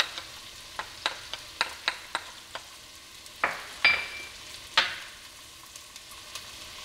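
Garlic and onions cook in a pan with a low sizzle, broken by a run of sharp utensil taps and scrapes at an uneven rhythm, close and quiet, no voices.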